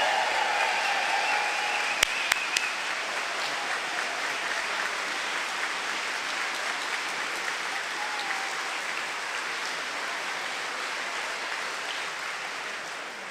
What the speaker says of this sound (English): Let's have a real round of applause for Vane and for the Pops Orchestra.